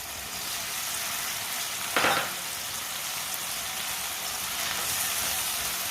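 Green peas stirred and fried in a pan with other ingredients already cooked, making a steady, even sizzle with one brief louder scrape of stirring partway through.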